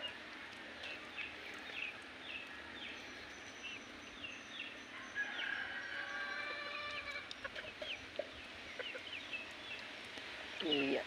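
Chickens cluck and chatter softly in a backyard garden, with scattered calls rising and falling over a quiet outdoor hum and a few louder bursts near the end.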